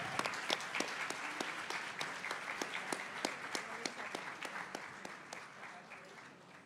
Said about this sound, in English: let's give them all a collective round of applause